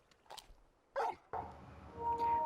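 Torgal, the large wolf-like hound in the Final Fantasy XVI video game, gives two short sharp barks close by, followed by a sustained louder bark-like call over a faint game backdrop.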